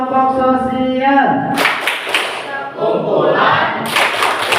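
A classroom of students chants together in a rhythmic clap routine about social groups, voices in unison punctuated by loud, synchronized bursts of clapping.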